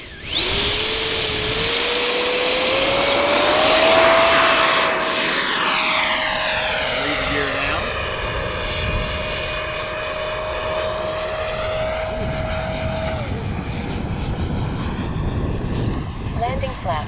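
Freewing A-6 RC jet passes overhead with a loud whining ducted-fan roar that rises, then sweeps down in pitch as it flies away and fades to a steady distant whine; a voice speaks at the end.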